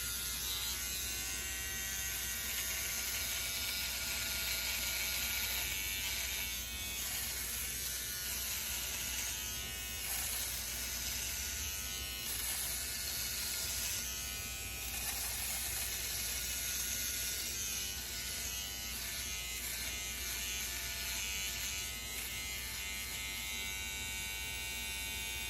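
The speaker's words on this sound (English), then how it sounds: "Let's turn this on, and I'm going to shave against the grain on my face" A Philips OneBlade electric razor buzzes steadily against facial stubble, shaving against the grain, a close continuous whirring hum with faint rasping textures and small shifts in tone as it moves.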